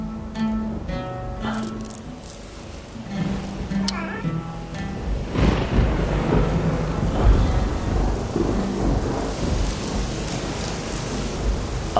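Rain and thunder in an animated story roll as a broad, steady wash of noise with low rumbling, joined by soft music and a few brief voice-like tones early on, then swelling louder through the second half.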